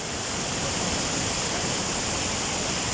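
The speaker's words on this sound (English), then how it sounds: "4 sluice gates of the Dambuluoya Reservoir remain open, releasing water into the Kalaoya." Water roars out of four open sluice gates at the Dambuluoya Reservoir into the Kalaoya river, a dense, loud, continuous rushing wash with no break and no voices.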